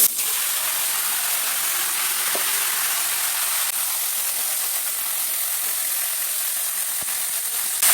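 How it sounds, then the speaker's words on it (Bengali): Mixed winter vegetables hit hot oil already holding dried chilies and five-spice seeds, producing a steady, even broadband hiss that runs unbroken and fairly loud throughout. "সবজিগুলো এখন দিয়ে দিচ্ছি"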